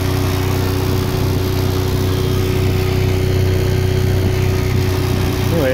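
An electric motor fitted to a converted boat spins its propeller fast, giving a steady, loud, unbroken whirring hum with a constant pitch that does not change from start to end.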